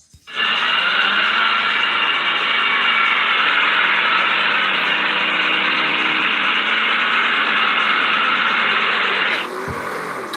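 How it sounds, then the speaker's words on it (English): Small motorbike engines run loudly and continuously for about nine seconds with a buzzing, high-revving drone, then cut off abruptly. "It's some sort of little motorbike things."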